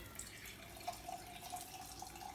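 Tap water pouring from a faucet into a container over fruits and vegetables, a steady, fairly quiet splashing stream with no talk.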